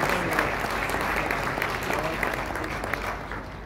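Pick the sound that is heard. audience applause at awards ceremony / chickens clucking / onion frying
audience applause at awards ceremony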